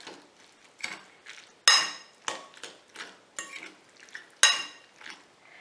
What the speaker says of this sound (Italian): Adesso giriamo il tutto